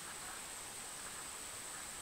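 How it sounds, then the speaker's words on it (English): Soft, even hiss of rain coming down beside a creek while someone is out metal detecting. It stays faint and unbroken throughout with no speech. "5 minutes here, it's raining."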